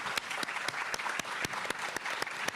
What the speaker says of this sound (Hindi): हम जोरदार तालियों के साथ अमरीश जी का स्वागत करते हैं.